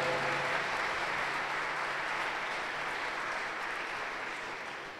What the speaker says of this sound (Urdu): آپ کی بھرپور تالیوں میں آج کی عید بہت بہت مبارک ہو